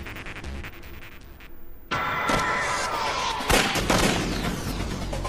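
Rifle gunfire: a sudden loud burst opens into a sustained roar of shots, with a few sharper cracks standing out, close and forceful, with no talking.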